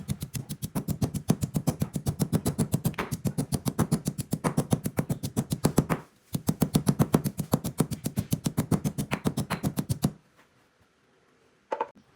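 Rapid, steady pounding of sliced lemongrass with a pestle in a mortar, close and loud, running unbroken for about ten seconds before stopping, then two final thuds.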